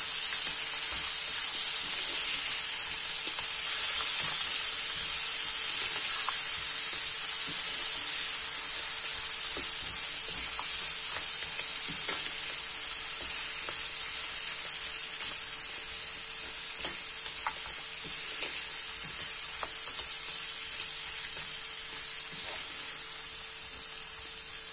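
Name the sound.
frozen vegetables frying and being stirred with spices in a pan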